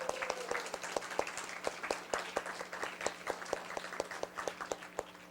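An audience claps for seniors who finished a year-long research project at an ocean studies seminar: a dense, steady round of hand claps with sharp individual slaps standing out, sustained for several seconds.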